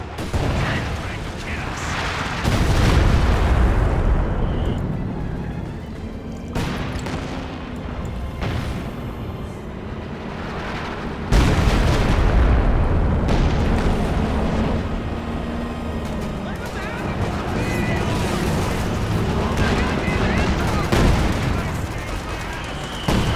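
Artillery barrage from a B4 howitzer in Company of Heroes 2, heavy booming explosions rolling continuously throughout with dense battle noise and gunfire layered underneath, loud and sustained with sharp peaks.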